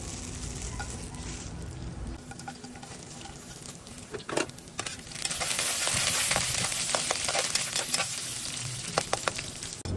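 Dried anchovies (dilis) frying in oil in a pan, a continuous close crackle and spatter that grows denser and louder halfway through, with sharp pops scattered throughout.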